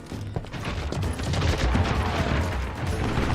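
Rapid gunfire from the Western shooter game Call of Juarez Gunslinger, a dense, loud barrage of overlapping shots that runs steadily through the whole stretch, with no talk over it.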